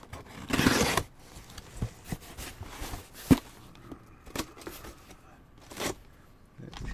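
A cardboard box from a delivery being cut open: a loud burst of scraping and tearing at the start, then sporadic scrapes, rustles and knocks of handling close by, with no talk.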